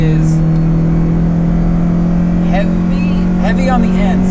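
A Ferrari Dino GT4 engine pulls while driving, heard from inside as a loud, steady droning hum, with someone talking briefly over it toward the end.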